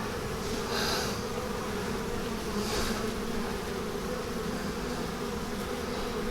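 Dense, steady drone of many honey bees buzzing around an open hive during a spring inspection, continuous and close throughout with no talking.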